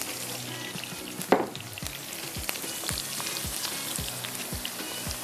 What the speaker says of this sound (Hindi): अभी इसको प्याज को हम इसमें डालेंगे, थोड़ा ये ब्राउन हो जाए